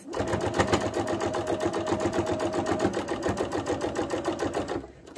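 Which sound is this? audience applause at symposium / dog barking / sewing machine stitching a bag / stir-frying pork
sewing machine stitching a bag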